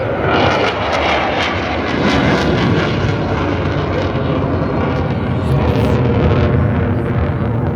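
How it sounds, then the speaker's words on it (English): A Eurofighter Typhoon display jet at the Blackpool airshow pitches into the vertical, its engine roar loud, broad and continuous, rumbling and crackling throughout. "he's going to point the aircraft right towards the tower, pitch the aircraft into the vertical,"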